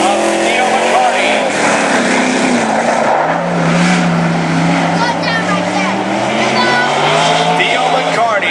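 The number 14 race car, a John Boy chassis sprint car, roars around the track on a qualifying lap at Cottage Grove, its engine droning loud and steady with rising and falling pitch under an announcer's talk.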